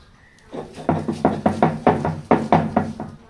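Jackfruit seeds pounded with onion and chili on a grinding stone, a series of about ten regular, fairly loud thuds with a steady rhythm, close by and with no voices.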